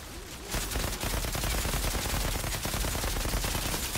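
Gunfire in the video game Outriders, rapid automatic shots in a dense, loud, continuous burst after a brief lead-in.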